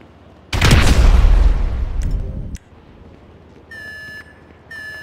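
A heavy explosion in Grand Theft Auto V during a raid on a federal building booms loudly and close, roaring for about two seconds before dying off, followed by a few sharp clicks and two bursts of a steady electronic alarm tone.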